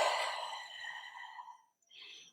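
A slow, soft inhale during a guided meditation, breathy and close, fading out before a short quieter breath sound near the end, with no talking.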